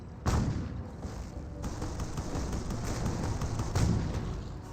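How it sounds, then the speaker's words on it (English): Gunfire in the World War II strategy game Company of Heroes, a dense battle wash of rifle and machine gun shots with heavier booms at the start and near the end, loud and continuous, no talk. "Barber one does fire some shots there"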